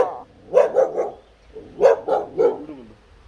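A dog barks loudly nearby in two quick bursts of three barks each, with a short pause between them.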